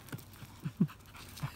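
Two dogs, tired from rough play, pant in short quick breaths close by, with a few soft puffs and a brief whimper-like sound over about a second and a half, and no talking.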